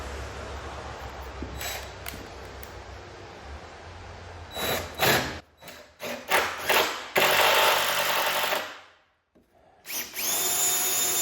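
A power drill drives screws into a wooden barn door in several bursts of whirring, each rising in pitch and cut off sharply, close and loud, separated by short pauses and handling noise, with no voices.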